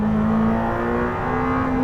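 Lamborghini Temerario engine revving on a former Formula 1 track, a loud sustained drone with a steady pitch that rises slightly, heard from close by without talk.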